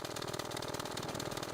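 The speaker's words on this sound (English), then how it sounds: "I'm going to show you what happens if you put the gas engine to maximum on the race car." A race car's gas engine in the video game Scrap Mechanic runs at maximum with a fast, buzzing, evenly pulsing drone, steady and fairly quiet throughout.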